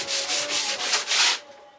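Hand sanding of wood with sandpaper while varnishing a wooden reel, about five steady rasping back-and-forth strokes, close and clear, then a quiet tail.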